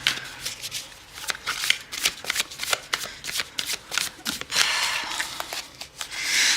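Tarot cards being shuffled by hand close up, a steady run of quick papery riffles and slaps with brief pauses, no talking.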